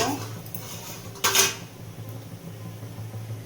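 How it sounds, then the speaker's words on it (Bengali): A metal lid comes off a cooking pot of soybean kofta curry with one brief, bright clatter midway, set against a quiet kitchen background hum. "এবার ঢাকাটা খুলে দেখব"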